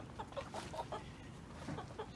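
Hen clucking near a compost heap on a rainy day, a run of short soft clucks in steady rhythm, close and fairly quiet with no talk over it.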